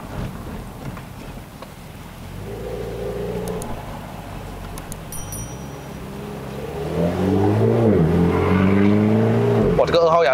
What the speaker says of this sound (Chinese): 幸好这辆车的 exhaust 不会讲很吵很吵哦。